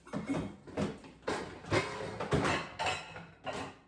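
A kitchen cabinet being opened, with several quiet wooden scrapes and knocks nearby, in short uneven bursts.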